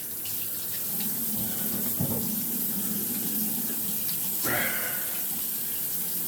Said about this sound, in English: Let's wash our hands a little bit.